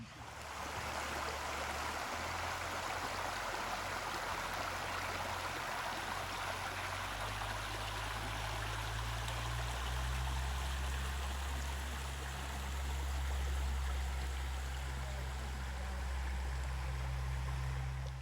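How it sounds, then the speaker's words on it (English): A clear creek running just beyond a wall beside a campsite, a steady broadband rush of flowing water with a low hum underneath, constant and unbroken for the whole stretch with no voices. "just over the wall is a creek"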